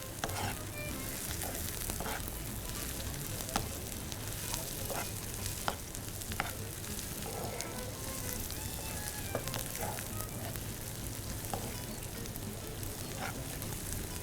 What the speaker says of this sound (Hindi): अदरक लहसुन के भूनने में भी प्याज थोड़ी सी पक जाएगी।